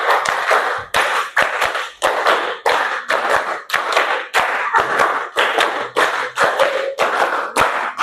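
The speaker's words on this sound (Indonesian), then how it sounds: "Tepuk 5 kali." A classroom group claps hands together in a game, producing a long run of loud, crisp claps in quick bursts with short pauses between rounds, close and lively.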